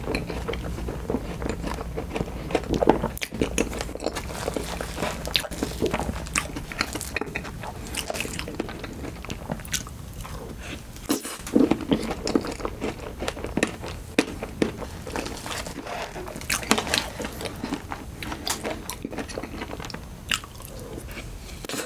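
Close, crunchy bites and chewing of tiramisu cake soaked in milk, with dried strawberries, repeated irregularly throughout with no talking.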